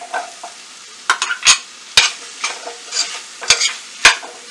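Boiled jackfruit seeds are stirred into onion-tomato masala in a pan: close, uneven scraping strokes with soft sizzling between them, and no voices.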